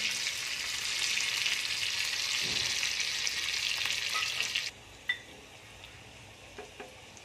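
Rolled puris fry in hot oil with a loud, bright, even sizzle for several seconds that then drops off abruptly, leaving quieter bubbling and a few sharp clicks.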